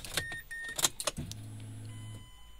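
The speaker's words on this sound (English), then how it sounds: "key inside and try to start the car." A Mazda 6 is started after key programming following an ECU replacement: key rattles and clicks, then the engine cranks and settles into a steady low idle, close by.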